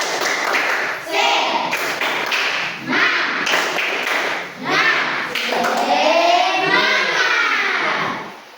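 A classroom group of children performs a rhythmic spirit clap, bursts of patterned claps and taps mixed with chanted voices, loud and close, with pauses between phrases and a sung, rising vocal line near the end.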